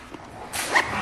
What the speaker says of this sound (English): These dogs play, they don't stop.